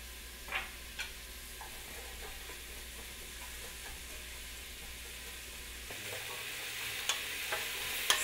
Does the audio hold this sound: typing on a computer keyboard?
no